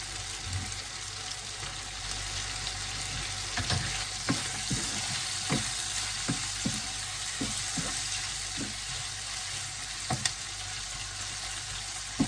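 Goat liver and onions fry together in a pan, a steady close sizzle broken by a run of scraping stirs and light utensil knocks.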